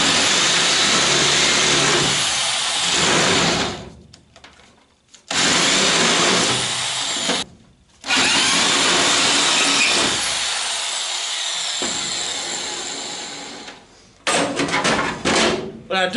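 Drilling holes through the sheet-metal body of a Citroën Traction 11B under restoration, with loud sustained power-tool noise running in long bursts separated by short pauses, close by.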